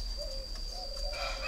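Breeding doves, one pair sitting on eggs, coo softly in a few low drawn-out calls, fairly close and quiet against a steady background hum.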